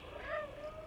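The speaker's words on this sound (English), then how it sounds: "I want to hear the cat's meows now" A cat gives one short, faint meow with a rising then falling pitch, heard alone against a low background hum.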